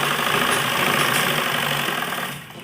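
A sewing machine runs continuously while stitching fabric for a baby frock, a loud close whirring buzz that winds down at the end.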